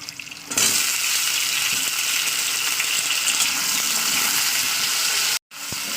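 Potatoes fry in hot oil over a full flame in a pan with browned onions, giving a loud, steady sizzle that runs unbroken for several seconds, then cuts out briefly before the end.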